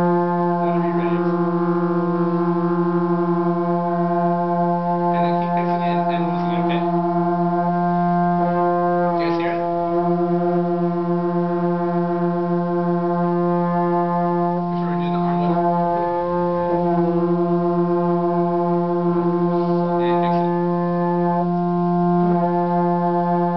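A high school trombone section holds long sustained notes together, the pitch slightly out of tune so slow beating pulses through the chord, with brief voices breaking in between the held notes.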